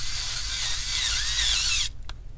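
A powered screwdriver buzzes continuously for nearly two seconds, driving a screw into a Dell Inspiron 15 7000 series P58F laptop during keyboard replacement, then cuts off, followed by a brief click.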